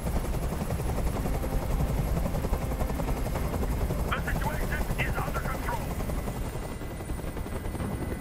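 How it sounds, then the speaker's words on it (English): A helicopter's steady, whirring rotor drone in the video game Detroit: Become Human, with faint voices and distant bursts of gunfire beneath it. "I can't stand that noise anymore. Tell that helicopter to get out of here."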